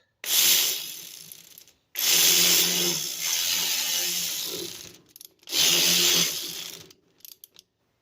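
Ratchet wrench tightening a fitting during a radiator replacement on a 2007–2012 Nissan Altima 2.5S, heard as three bursts of close, rapid mechanical clicking with short pauses between, no talking.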